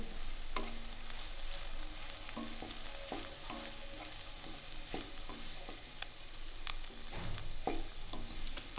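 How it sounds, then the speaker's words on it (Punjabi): Egg bhurji sprinkled with chaat masala sizzling in a pan as a spatula stirs it, with repeated scraping strokes and clicks over a constant frying crackle. "ਥੋੜਾ ਜਿਹਾ ਆਪਾਂ ਇਹਨੂੰ ਹਿਲਾ ਦਾਂਗੇ"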